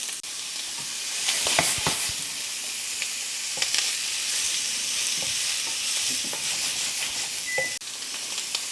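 Bite-sized bratwurst or sausage pieces sear in a hot pan with a steady bright sizzle, and a few scrapes and clinks from stirring rise above the constant hiss.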